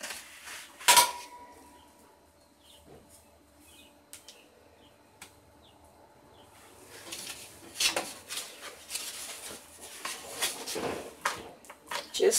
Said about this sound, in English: you want to scrape the seeds out of here.